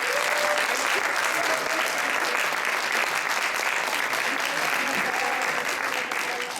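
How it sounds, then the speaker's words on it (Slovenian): Sustained audience applause for solo and duet dancers at a dance competition, a steady dense wash of clapping from a large crowd lasting throughout without a break. "Dajmo še en velik aplavz za vse plesalke in plesalce."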